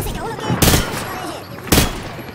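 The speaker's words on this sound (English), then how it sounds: "He sprayed bullets all over the damn place" Bursts of rifle fire from the hip in the Call of Duty Modern Warfare 2 video game: two loud, close bursts of rapid gunshots with steady background noise between them.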